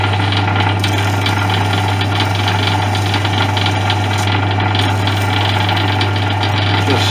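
A lathe spins a part in its chuck while it is sanded with a strip of 180 grit wet-and-dry paper, giving a steady, loud motor drone with a constant low hum and a rough, continuous rasping texture throughout.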